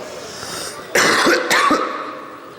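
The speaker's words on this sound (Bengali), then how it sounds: "সবাই একটু কাশি দেন, আর একটু জোরে।" A crowd at an outdoor Islamic sermon gathering in Parbatipur, Dinajpur coughs on request, giving two loud bursts of many overlapping coughs and throat clearings that then fade away.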